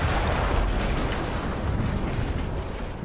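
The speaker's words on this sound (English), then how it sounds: "That explosion was one of the sweetest sights of the war for me." A loud explosion in the video game Battlefield 1, a dense, rumbling roar of blast noise that stays heavy and sustained across the whole stretch without pause.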